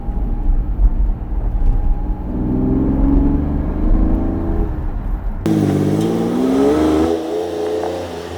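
A Lamborghini Diablo's 5.7-liter V12 revs up with rising pitch, loud and close, then surges again into a higher, smoother whine as it accelerates.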